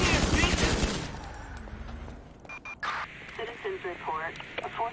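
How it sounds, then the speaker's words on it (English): Rapid pistol gunfire in GTA 5 Online: a loud, dense burst of quick shots in the first two seconds, then quieter game sounds with a voice talking over them. "it allows players to fire bullets at seriously fast speeds, rapid fire into enemies with pistol ammunition"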